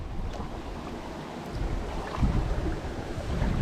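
Water rushes steadily over a small dam near a lake, heard as a low, constant rushing that swells slightly toward the end, with faint wind noise from a kayak outing.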